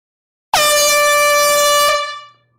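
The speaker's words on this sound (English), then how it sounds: "Air horn time." A single long, loud air horn blast sounds alone for about a second and a half, then trails off abruptly in an indoor setting.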